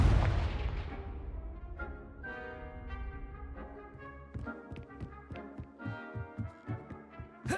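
In the video game Hogwarts Legacy, the Confringo spell goes off with a booming burst that decays into rumble, followed by a run of rhythmic thudding impacts, with no talk.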